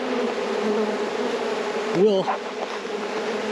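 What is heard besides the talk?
honey bees buzzing around the hive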